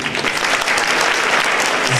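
Loud, dense applause from an audience in a university assembly hall, greeting the professors and teaching staff, sustained evenly throughout without a break.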